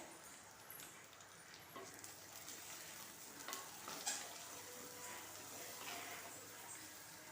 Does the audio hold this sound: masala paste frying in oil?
yes